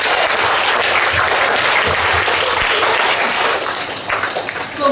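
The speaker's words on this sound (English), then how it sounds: "We are all going to clap for ourselves." A class of young schoolchildren at a school assembly claps for themselves, a dense, lively burst of applause filling the room from start to finish and tapering slightly at the end.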